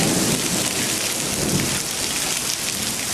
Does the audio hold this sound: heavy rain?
yes